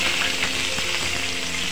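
Chopped green chili and capsicum fry in hot oil for chow mein noodles, a steady close hiss of sizzling with no voices.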